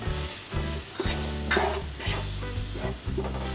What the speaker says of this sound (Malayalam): 2 സ്പൂൺ മുളക് പൊടി ഇട്ട് അതൊന്ന് ഇളക്കുക.